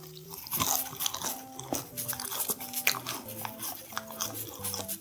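Teeth bite and chew through an over-baked, very crispy salt bread crust, several close crunches followed by chewing, quiet and alone with no talking.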